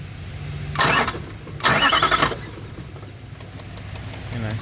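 A diesel engine cranks twice in short bursts without catching, each attempt a rough whirring grind that stops, followed by quieter ambient noise and faint ticking.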